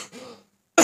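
A person coughs with a dry, ashy-feeling throat: a soft breathy rasp first, then a silent gap and one sharp, loud, close cough at the end.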